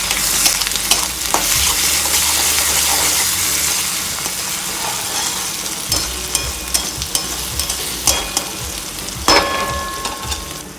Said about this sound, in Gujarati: હવે આ આદુ મરચાં ને લસણની પેસ્ટ નાખી દેવાની. થોડીક વાર સડવા દેવાની.